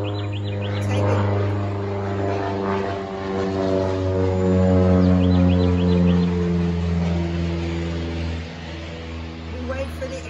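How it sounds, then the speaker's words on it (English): A propeller airplane passes overhead during an outdoor yoga class, its steady droning hum with layered engine tones growing and then slowly easing away over about ten seconds. "We wait for the airplane to pass."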